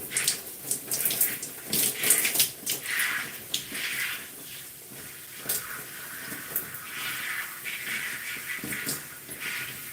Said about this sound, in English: I rinse my hair for a good 5 to 7 minutes before I get started washing